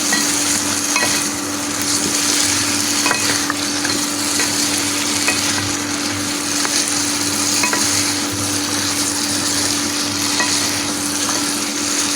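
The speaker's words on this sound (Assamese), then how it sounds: "ভালদৰে লৰাই দিম।" Drumstick curry is stirred in a frying pan, making a loud continuous sizzle close up with steady scraping and light clatter from the spoon, with no talk over it.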